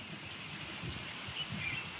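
Heavy rain falls steadily over farm fields, a close, even wash of hiss with no voices and faint soft patters beneath.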